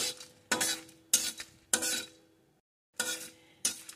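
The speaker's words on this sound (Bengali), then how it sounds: "এখন এই মশলাটা ভালো করে ভেজে নেব।" Whole cumin with cardamom dry-roasting in a pan, heard as separate bursts of scraping stirring and light rattling spice with short quiet gaps between them, close and moderately loud.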